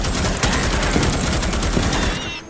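Heavy automatic gunfire from a large weapon in Starship Troopers Extermination, a loud, continuous rapid burst of shots with dense rattling impacts lasting about two seconds before cutting off.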